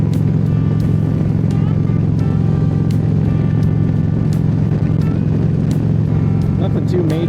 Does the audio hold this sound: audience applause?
no